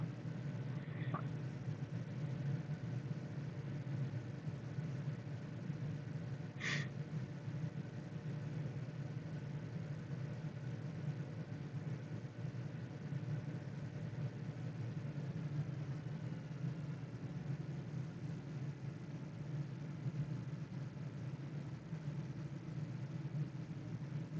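The engine of a Diamond DA40NG aircraft in Microsoft Flight Simulator, throttled back to a steady low droning hum, even and continuous throughout, with no voices over it.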